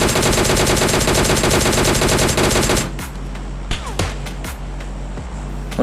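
Rapid automatic gunfire from a DP-28 light machine gun in PUBG Mobile Lite, loud and dense for about three seconds, then stopping abruptly into a quieter battlefield background with a few sharp distant shots.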